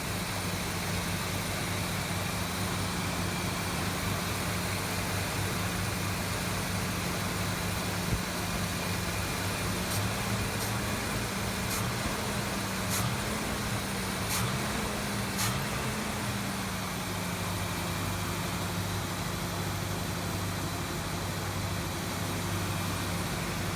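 A 1974 Corvette Stingray engine idles slightly high in a continuous, steady hum with a low drone throughout, its pitch wavering briefly midway, with no talk.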